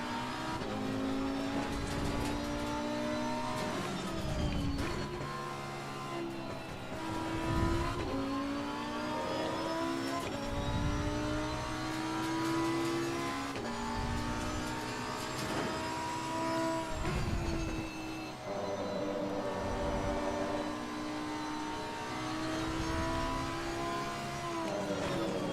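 AI-driven GT race cars roar past one after another on the Kyalami circuit in the game Assetto Corsa Competizione, loud engines rising and falling in pitch with steady, continuous revving and no talk.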